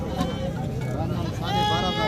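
Goats bleat at a crowded livestock market selling nanny goats with kids, several wavering calls rising over the steady chatter of people talking nearby.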